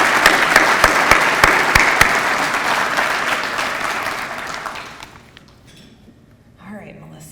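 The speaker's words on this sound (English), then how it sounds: "I want to just give the 3 Grand Division winners one more round of applause" A banquet audience applauds the three Grand Division teacher-of-the-year winners with a loud, sustained round of clapping that gradually thins and fades out after about five seconds, leaving near silence with faint room sounds.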